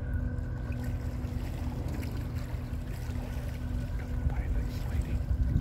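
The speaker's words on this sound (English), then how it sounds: "Also, you have a couple pilot boats here." A steady low engine drone from pilot boats on the water at Detour, Michigan hums throughout, with faint splashing and a distant murmur in the background.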